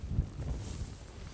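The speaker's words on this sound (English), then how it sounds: "Just up there, it's 10 times as windy" Wind buffets the microphone in low, steady rushing gusts, a continuous blustery roar with no other clear sounds.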